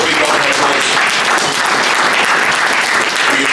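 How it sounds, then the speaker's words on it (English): Loud, sustained audience applause at a boxing press conference, dense clapping filling the room steadily without a break and no speech over it. "I think let's give champ a big round of applause."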